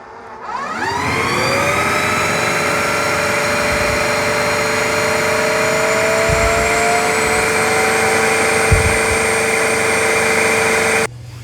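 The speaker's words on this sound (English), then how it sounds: "It's going to put a bunch of solution on the roller and then suck it up." A Bissell CrossWave OmniForce cordless wet dry vacuum spins up to a loud, steady whine with a droning motor tone, running close and continuously over a floor before cutting off at the end.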